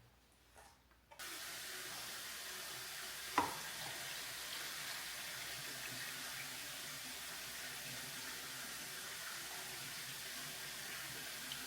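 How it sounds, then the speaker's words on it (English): Water runs steadily from a tap into a pressure canner pot, a continuous soft rushing hiss with a single clunk partway through. "now we're gonna fill this to the max line with water"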